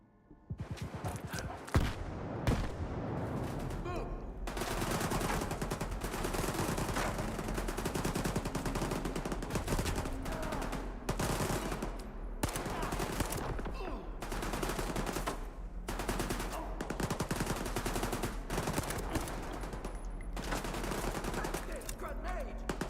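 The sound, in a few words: gunfire shooting at the player in S.T.A.L.K.E.R. 2 video game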